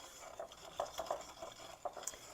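A spoon stirs dry muffin ingredients such as salt and cinnamon in a bowl, making quiet soft scrapes and a few light clinks against the bowl, with no one talking.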